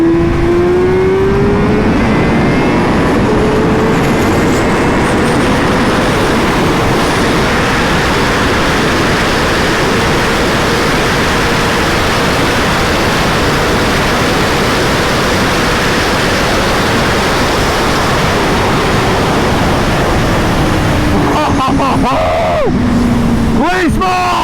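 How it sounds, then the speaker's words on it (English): Rare Honda Fireblade motorcycle fitted with a long Akrapovic exhaust accelerates hard, its engine roaring loud and rising in pitch over heavy wind rush for a long stretch, with a gear shift near the end. "For having a long Akrapovic exhaust on it, it still sounds pretty crazy."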